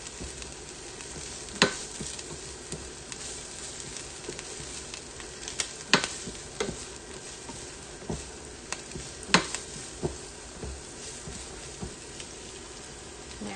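Chopped onions sautéing in oil in a pan hiss softly and steadily, broken by occasional sharp clicks and scrapes of stirring, close but fairly quiet, with no talking.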